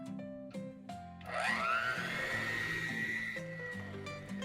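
Electric mixer whirring on medium speed through red velvet cake batter, its steady motor whine rising in at the start and holding loud and continuous, with a background musical tone running beneath.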